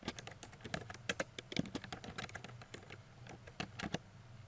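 Fingers type on a computer keyboard while filling a spreadsheet cell, producing a quiet, close run of irregular key clicks with short pauses.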